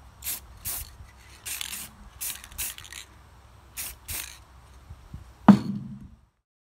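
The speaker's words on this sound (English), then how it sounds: "I'm gonna take it to the pressure washer real quick and just really blast it out good" A pressure washer blasts clean an old pen holder made from nuts in a series of short, sharp hissing sprays with gaps between them, ending with a louder burst and a knock before falling silent.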